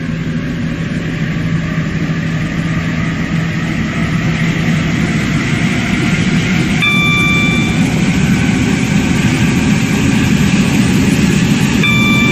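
A Class 168 train in the Stepford County Railway game runs with a steady engine drone and rail rumble, joined partway through by a brief electronic tone chime.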